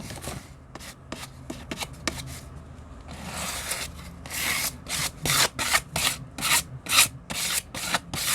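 A card scrapes and wipes olive green and ice blue paint across a gesso surface in short, rasping strokes. They start sparse and quiet, then turn into a quicker, louder run of rough rubbing sweeps.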